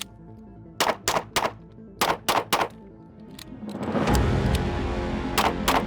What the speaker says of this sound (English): if you use this mag release, you can release both magazines and insert that spare one incredibly fast